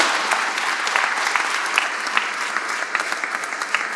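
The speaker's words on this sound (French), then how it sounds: "je voudrais qu'on applaudisse l'ensemble de mes conseillers municipaux" A crowd at the inauguration of Henri Fabre's Canard seaplane at an aeronautics museum applauds the municipal councillors, warm steady clapping with scattered sharper claps throughout.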